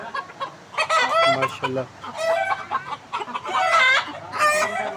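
Red porcelain mille fleur bantam chickens clucking and squawking close by in repeated bursts, with someone speaking briefly over the birds.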